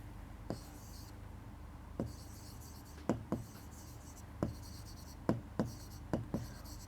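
Marker or chalk strokes on a classroom board while a flow chart is written for a chemistry lesson, heard as a string of short, quiet taps and scratches in irregular pairs over a soft background hiss.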